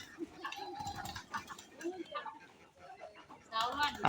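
A domestic desi chicken clucks in a series of short, uneven calls close by, mixed with a person talking nearby.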